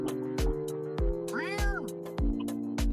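A kitten meows repeatedly from inside a package being shaken, with four or five sharp thumps of the box and a drawn-out cry in the middle, all over a steady background hum.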